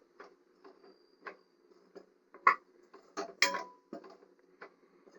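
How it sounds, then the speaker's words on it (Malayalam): Spice powder being stirred into frying masala in a pan, heard as soft, irregular scrapes and taps of a utensil against the pan, with one or two sharper knocks, all quiet and close. "പൊടി ചേർത്ത് നന്നായിട്ടൊന്ന് ഇളക്കി കൊടുക്കാം."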